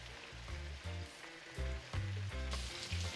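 Sauce for a snapper dish boiling vigorously in a pan, giving a close, continuous sizzling and bubbling that swells and eases in uneven pulses.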